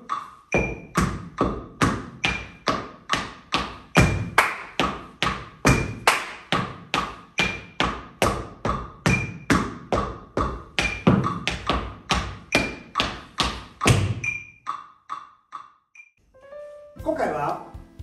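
Tap shoes on a floor in a beginner routine of single-sound steps, stamps, shuffles and a cramp roll, a long run of sharp, evenly paced metallic clicks and thuds, close and clear, tapering off near the end.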